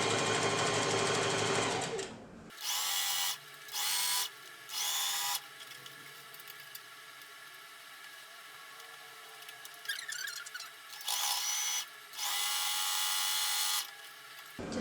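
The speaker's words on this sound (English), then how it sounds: "we're just going to sew all the way down about 1/2 inch, about 1/2 inch in on both sides" Sewing machine stitching seams on a fabric bag in short bursts, each run a close, steady buzzing whir broken by quiet pauses, after a louder opening stretch.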